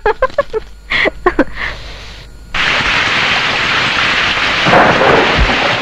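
Heavy rain roars steadily after a few seconds of scattered sounds, a dense, loud hiss with a low rumble that suggests thunder.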